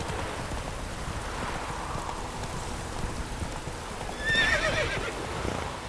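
Horse hooves clop steadily as a rider travels through rain in The Witcher 3, a soft continuous trot under patter and hiss, with a whinny rising briefly near the end.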